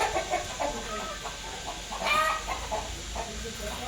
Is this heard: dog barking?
no